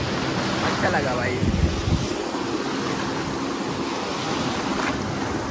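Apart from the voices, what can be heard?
sea waves at Murud beach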